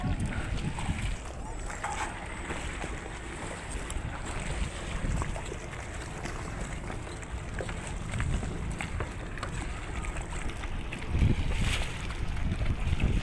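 A small rowing boat on the water at Patenga carries a steady, broadband rush of wind and water that holds throughout, with a slight swell in loudness near the end.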